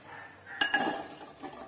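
A metal cooking pot clanks down onto a kitchen stove while jackfruit aviyal is being prepared, one sharp knock followed by a few lighter metallic clinks in a quiet room.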